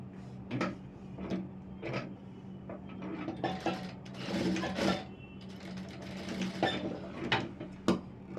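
Sewing machine stitching a folded hem on blouse fabric, with short irregular bursts of mechanical whirring and clicking, starting and stopping several times, close by, with no talk.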